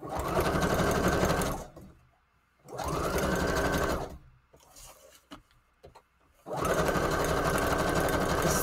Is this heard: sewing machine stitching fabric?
yes